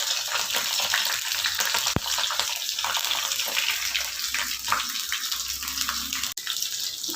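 Garlic, green chili and curry leaves fry in hot oil for a yellow pumpkin thokku. A steady, close hiss of sizzling runs throughout, broken by a couple of sharp clicks.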